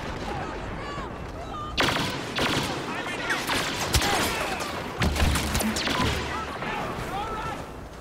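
Blaster fire from a first-person Star Wars Battlefront battle, a dense mix of repeated zapping shots and distant explosions over constant battlefield noise, with a voice talking over it.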